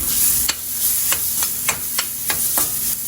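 Grated plantain stirred with softened onions in a pan, a steady sizzle broken by about eight sharp scraping strokes of a spatula at an uneven rhythm, close and fairly loud with no talking.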